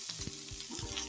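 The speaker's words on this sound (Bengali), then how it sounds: "বেশি না, অল্প ভাজা ভাজা করবো।" Chunks of onion, tomato and green chilli fry briefly in a pan for chicken do pyaza, giving a soft, even sizzle with faint stirring scrapes, alone and fairly quiet.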